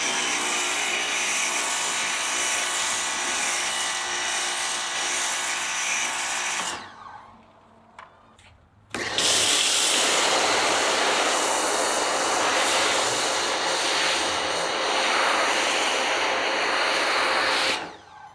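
A pressure washer spraying thick foam gives a loud, steady hissing rush up close. It cuts out for about two seconds, with a few clicks, then resumes at full force before stopping near the end.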